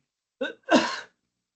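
A single close sneeze, a short intake followed by a sharp burst, then silence.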